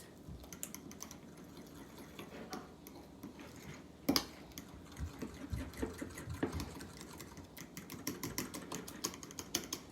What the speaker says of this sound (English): It's always good to whisk your yogurt before you're adding it into your curry so that it doesn't curdle